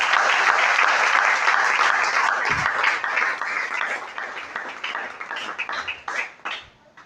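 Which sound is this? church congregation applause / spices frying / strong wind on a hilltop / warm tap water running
church congregation applause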